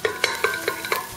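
Chopped spinach stirred into onions frying in a pan for a sauced börek filling: five evenly spaced scraping stirs over a steady hiss of sizzling oil, close and clear.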